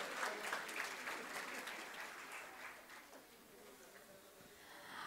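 A crowd applauding, a dense clatter of many hands clapping that gradually thins and fades, heard at a modest distance.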